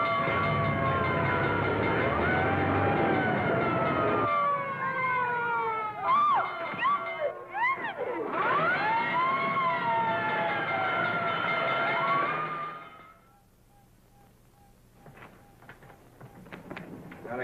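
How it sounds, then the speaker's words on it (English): A loud fire engine siren wails and warbles for several seconds, broken by yowling cat meows in the middle, then fades to quiet with faint clatter. "looks as if I finally get my ride on a fire engine."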